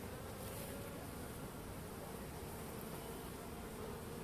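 Honeybees at a hive on the Trabzon coast make a steady, dense buzzing that stays even and faint throughout, with no voices.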